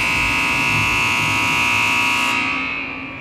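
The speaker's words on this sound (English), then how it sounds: "that's the buzzer" A loud, steady electronic end-of-period buzzer at a game drones for about two and a half seconds, then fades out with a lingering echo.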